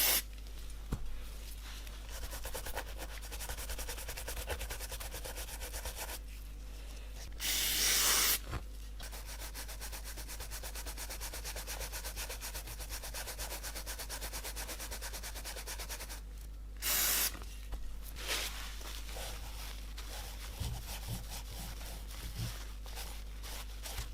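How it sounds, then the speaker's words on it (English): Steady scrubbing with a small toothbrush, rasping continuously and close on white shoe soles, broken by two brief hissing sprays of Würth cleaner. "Let's see what it's like spraying direct and using a toothbrush"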